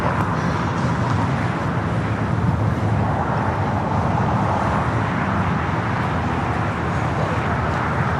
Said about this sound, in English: the Korean Air Flight 11, and we're in the updated livery on the Queen heading to the north side